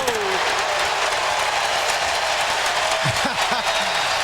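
A basketball crowd roars and applauds after a dunk in a South Carolina versus Tennessee college game, a loud, sustained wash of cheering with whistles, and a commentator talking over it.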